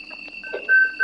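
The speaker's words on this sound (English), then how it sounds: "If you guys are hearing that beeping, it is a part of the game." A repeating electronic beep from the game Resident Evil Director's Cut, thin steady tones sounding in short repeated bursts, fairly clear over a quiet background.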